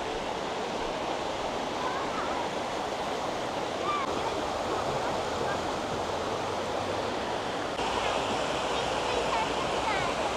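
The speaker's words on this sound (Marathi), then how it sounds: "तुम्हाला पाण्याचा आवाज येतोय?" Rushing waterfall at Nixenfall in Austria's Salzkammergut, a dense steady roar of falling water filling the scene, with faint voices talking under it.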